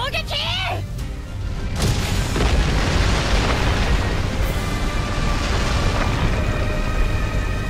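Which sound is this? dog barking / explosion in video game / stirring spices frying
explosion in video game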